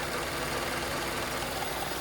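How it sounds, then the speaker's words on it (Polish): A 2004 Honda Accord VII 2.0 petrol engine with an LPG conversion idles smoothly, making an even, close-up mechanical hum and light ticking with no voices. "2 litry benzyna, ładnie pracuje, nic mu nie dolega"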